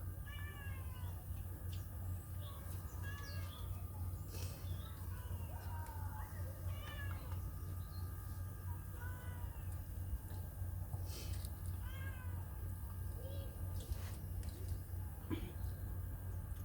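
A cat meows repeatedly, short plaintive cries spread throughout over a steady low hum, with faint voices in the background.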